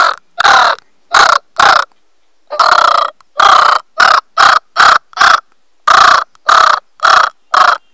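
A voice imitates a crow cawing, producing loud, close, harsh caws in quick bursts of two or three with short pauses between them, repeated about a dozen times.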